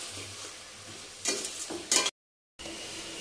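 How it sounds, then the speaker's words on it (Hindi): A spoon stirs spice paste in a cooking pan for a Bihari-style white eggplant dish, giving soft scraping bursts over a faint sizzle, then a brief gap of silence before the low frying hiss resumes. "अच्छे से मिक्स करेंगे।"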